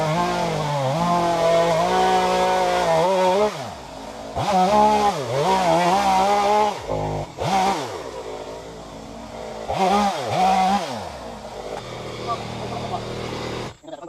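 A chainsaw revs and bogs as it cuts wood, its engine repeatedly rising to full throttle and dropping back in uneven bursts, loud and near, with a voice talking in between.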